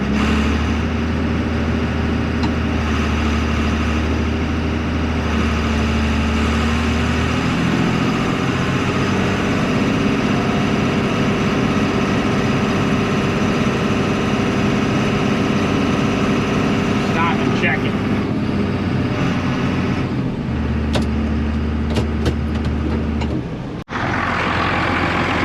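A tractor engine runs close and loud with the PTO engaged in a hay field, a continuous drone that shifts pitch partway through and cuts off briefly near the end.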